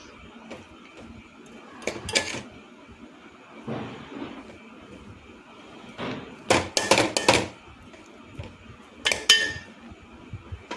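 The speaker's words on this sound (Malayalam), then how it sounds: "നന്നായിട്ടൊന്ന് ഇളക്കി കൊടുക്കുക" Prawns being stirred in a cooking pot, with repeated metallic clinks and scrapes of a spoon against the pot, coming in scattered bursts close by with quieter gaps between.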